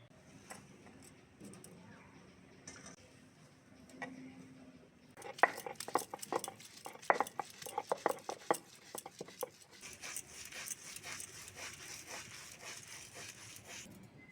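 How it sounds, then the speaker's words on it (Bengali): Soaked, cooled soybeans ground on a flat Bengali grinding stone (sil): a quiet start, then a run of rhythmic rough rubbing and knocking strokes that grows busier and denser, close by, with no voices over it. "সয়াবিনগুলো ঠান্ডা করে সিলে বেটে নেব"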